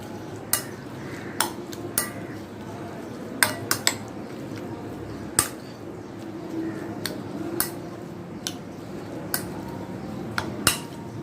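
Minced meat is mixed by hand in a bowl with garlic ginger paste and raw papaya for Bihari qeema, with repeated sharp clinks and taps of utensil against dish at irregular intervals over a soft, mushy background, no talking.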